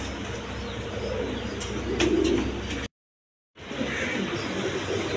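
A black racer pigeon coos in low, soft, repeated calls close by, with a brief silent gap midway before the murmuring resumes.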